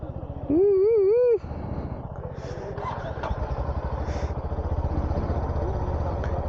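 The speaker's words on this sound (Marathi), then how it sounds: "बाईक चालू करायचा काय विषय आहे बाई" A KTM Duke 390 motorcycle engine starting, with a low steady idle rumble that continues after an initial warbling tone, heard close under people talking.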